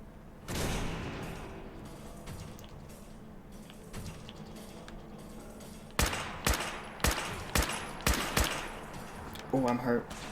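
Gunfire from Gunner enemies in the video game Fallout 4 rings out in a burst early on, then comes as a string of sharp, separate shots, close and loud, under a steady background drone.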